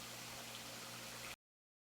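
Peppers and vegetables sizzle steadily in a pan beside giant prawns, a soft, even hiss of frying that runs without a break and then cuts off abruptly.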